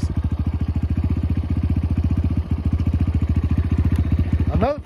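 A Motos 250 motorcycle engine idles steadily once warmed up, its close, even low chug thumping rapidly for several seconds before a brief blip near the end.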